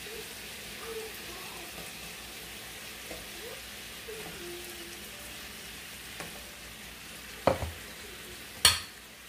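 Shrimp frying in a pan with spinach and potato curry, a soft steady sizzle with faint stirring, followed near the end by two sharp clanks of utensil on pan.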